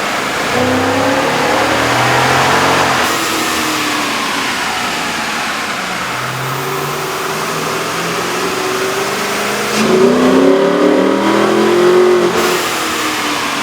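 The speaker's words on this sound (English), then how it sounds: "With the air intake installed, we ran the vehicle in the dyno to test the sound comparison versus the stock intake." Jeep Grand Cherokee 5.7L V8 fitted with a K&N air intake, revving on a dyno: loud, close engine sweeps rising and falling in pitch, with a stronger surge of revs near the end.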